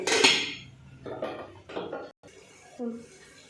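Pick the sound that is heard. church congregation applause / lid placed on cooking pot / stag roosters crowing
lid placed on cooking pot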